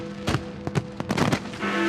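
New Year fireworks launched from the castle ramparts in Edinburgh go off in a quick run of sharp bangs and crackles, several bursts close together over a steady crowd murmur.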